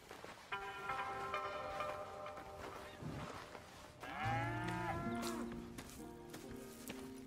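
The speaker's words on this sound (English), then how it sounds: "Here's the cows." Several cattle moo on a ranch in the Red Dead Redemption 2 video game, long drawn-out lowing calls in overlapping succession, fairly close and clear, with no talking.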